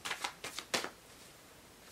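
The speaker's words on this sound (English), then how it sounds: "I felt the need to continue shuffling after I've already shuffled for about 2 to 3 minutes" A deck of tarot cards is shuffled close by, several quick riffling bursts in an uneven rhythm that fade into quiet rustling, soft and unaccompanied by speech.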